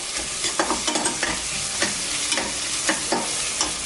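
Onions sauté in a pan for fish biryani, a steady frying sizzle punctuated by frequent rhythmic scraping stirs from a spoon, close and clear with no voices.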